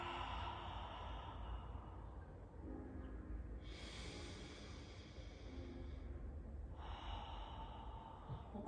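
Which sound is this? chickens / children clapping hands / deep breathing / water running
deep breathing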